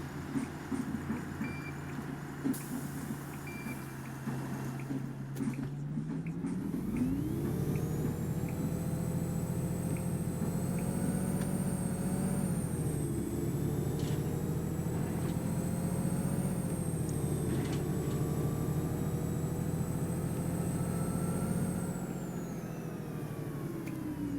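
A Volvo Olympian city bus in OMSI 2 pulls into a stop. Its diesel engine drones and rises in pitch, then holds a steady hum with faint high whining over a continuous rumble, with no talking.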